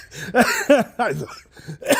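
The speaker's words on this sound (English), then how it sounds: "excuse me for coughing and laughing" A few harsh coughs mixed with throaty, voiced bursts, like coughing breaking into laughter, close and fairly loud.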